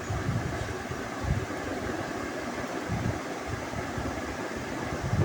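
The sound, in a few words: blender blending chikoo chocolate milkshake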